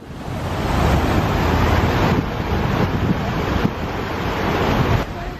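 Fountain water in a Madrid plaza, a dense, steady rushing splash that runs without a break, loud and close, with some wind buffeting the microphone.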